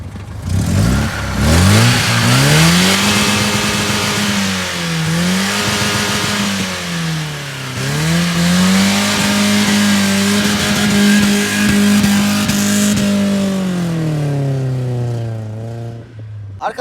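A BMW E30 undergoing restoration after a heavy crash revs its engine steadily and loudly nearby, the pitch climbing, dipping, rising again and holding high before easing off, with no voices over it.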